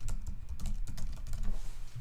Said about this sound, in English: I can type in an email address